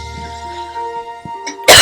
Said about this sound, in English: And here comes my cough.